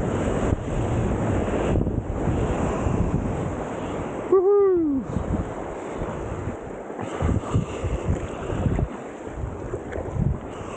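Small, roughly one-foot ocean waves breaking near the shore on a weak surf day, a steady broadband wash with wind buffeting the microphone and a brief tonal hoot partway through.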